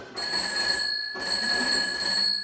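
An old party-line telephone bell in a 1912 farmhouse rings loud and close in two long bursts with a brief gap between, a bright metallic jangle.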